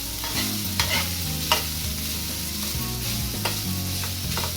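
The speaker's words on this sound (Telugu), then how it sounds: "ఈ ఉప్పు, కారం, పసుపు అన్నీ రైస్కి పట్టే విధంగా మొత్తం బాగా కలుపుకోవాలి" Cooked rice with salt, chili powder and turmeric is stirred in a hot pan, giving a continuous loud sizzle with scraping stirring strokes throughout and no talking.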